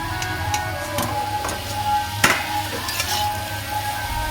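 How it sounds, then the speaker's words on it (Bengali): Cinnamon and ginger spices fry in a pan for a chicken kosha, giving a steady low sizzle with occasional stirring scrapes and one sharper clink near the middle. "একটু দারচিনি, আদাও খুব কম দিয়ে এই যে একটু নেড়ে এইটা এবার ভাজবো"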